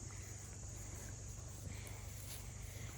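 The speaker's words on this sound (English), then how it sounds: "I hear those bees." Honey bees swarm around backyard beehives during a honey super check, their buzzing a steady, dense drone that fills the air without pause.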